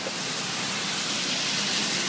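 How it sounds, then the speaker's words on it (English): Fast-flowing floodwater in a suburban Denver creek after heavy rain rushes as a steady, broadband roar, constant and fairly loud throughout with no pauses or voices. "the creek is still flowing quite fast"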